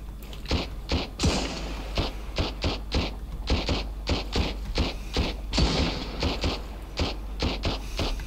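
Gunfire from the survival video game Sunkenland: a rapid, irregular series of punchy shots and thuds, fairly close and evenly loud, continuing throughout.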